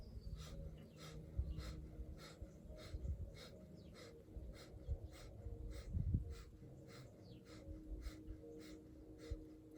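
Alternate nostril breathing in a yoga session, with the navel pumped on each exhale, comes as a steady series of soft, close breaths in a regular rhythm, quiet and without talk.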